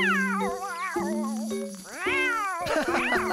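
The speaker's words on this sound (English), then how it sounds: "You just made Pilchard a very happy cat." A cartoon cat in Bob the Builder meows several times in a row, clear and close, with rising and falling wavering calls and a sharper, whinier cry at the end.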